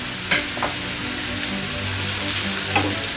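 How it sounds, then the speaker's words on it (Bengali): Chopped onions fry in hot oil over a high gas flame, a close, steady sizzle broken by a few sharp spatters and stirring clicks, with no talking. "এবারে এটাকে আমি একটু ভাজা ভাজা করে নেব"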